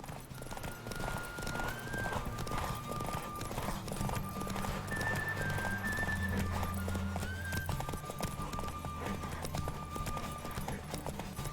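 Horse hooves clip-clop steadily at a gallop in The Witcher 3: Wild Hunt, with occasional whinnies over continuous game background music.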